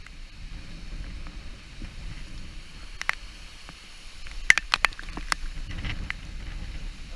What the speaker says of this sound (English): some strong wind right there.